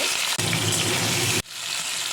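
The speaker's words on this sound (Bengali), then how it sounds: "তেল গরম হয়ে গেছে এবার আমি ছেড়ে দেবো মাছগুলো ভেজে নেব" Pieces of fish sizzle loudly in hot oil in a home kitchen pan, a dense steady crackle that swells when they go in and drops off sharply near the end.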